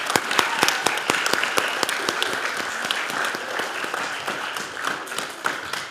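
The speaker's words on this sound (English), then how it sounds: "So give them a round of applause, too." Audience applause at a school event, steady, dense clapping from a crowd in a room, fairly close and even throughout with no voices over it.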